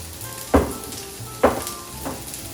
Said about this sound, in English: And now I have green peppers chopped up to add in.